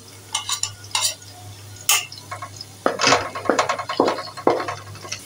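Onion fries in a pan for a ketchup chicken dish, a soft sizzle broken by a handful of sharp scrapes and clatters from a spoon stirring against the metal, close by with no talk.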